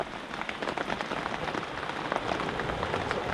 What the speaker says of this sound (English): How much more rain can we get?